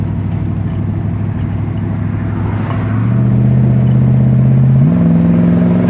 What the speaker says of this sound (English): Car has amazing acceleration when you start in first gear